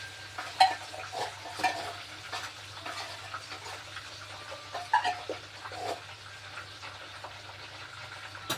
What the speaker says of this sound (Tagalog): Nagluto na ako ng corn beef.